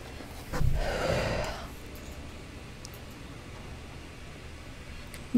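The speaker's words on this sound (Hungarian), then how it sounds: "nem merek ki, mert itt liheg" A creature pants in the horror game Dark Occult, a single loud breathy burst up close lasting about a second, then a quiet hiss of background noise.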